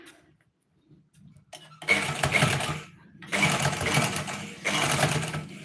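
Sewing machine stitching a neck lining, running in three sustained bursts with short pauses between them, loud and close, after a quiet start with faint handling.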